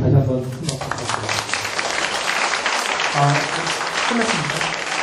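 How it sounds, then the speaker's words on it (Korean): An audience at a social welfare lecture applauds a professor, a steady patter of clapping from a seated crowd mixed with talking voices. "다시 한번 큰 박수 부탁드립니다"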